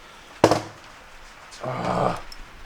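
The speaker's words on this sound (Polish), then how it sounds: "Uciekaj, nie wolno, nie wolno. Co za pies." Up close, a dog gives a sharp bark and then a low growl, with quiet pauses between them.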